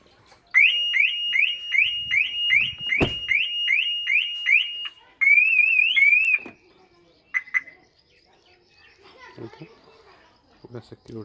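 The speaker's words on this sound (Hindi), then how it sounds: "कोई गाड़ी को स्टार्ट इस तरह से खोलना भी चाहे तो ये लॉक बज उठते हैं, बीप की साउंड आने लगती है।" Security alarm on a locked Maruti Suzuki Ciaz sounding a loud, rapid repeating electronic chirp for several seconds, then a warbling burst and a few short beeps, followed by quiet with faint talk.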